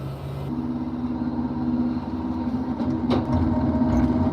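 A log loader machine runs with a continuous droning engine rumble and a steady mid-pitched whine, and a sharp clank sounds near the three-second mark.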